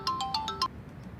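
A phone ringtone chimes in a quick run of five bright electronic beeps, close and clear, then stops, leaving faint room quiet.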